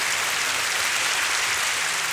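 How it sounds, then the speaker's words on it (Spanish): A church service congregation claps in a dense, loud, continuous burst, a steady wash of applause with no individual claps standing out. "Un fuerte aplauso para Jesús."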